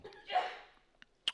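A single soft sneeze, fairly quiet and brief, followed by a couple of faint clicks.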